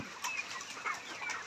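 Layer pullets in a poultry farm shed cluck and chirp in a dense, continuous chorus, many birds calling at once at moderate volume with no voices over them.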